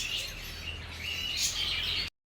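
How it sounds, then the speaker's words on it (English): Zebra finches at a bird park give bright, rapid chirps and tweets, a dense flock chatter close by with no talking. "So these are zebra finch."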